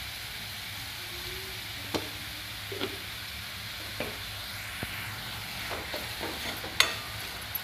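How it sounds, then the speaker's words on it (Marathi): Chopped onion with a pinch of salt fries in a pan for a capsicum curry, giving a steady soft sizzle broken by several sharp stirring clicks and scrapes, close up with no talking. "कांदा आपण भाजून घेऊया।"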